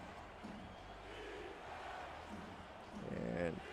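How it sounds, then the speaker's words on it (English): Stadium crowd at a pre-season football game between Vancouver and Seattle chanting defense on a third down, a broad steady roar with swelling voices that grows louder near the end. "The crowd picks up a chant of defense here on this 3rd and 9."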